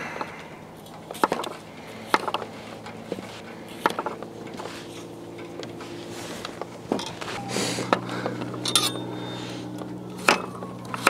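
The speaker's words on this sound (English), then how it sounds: "I'm just chopping them up so that they're smaller pieces." A knife chops gemstone potatoes into smaller pieces on a cutting board, a series of close, irregular sharp knocks over a low kitchen hum.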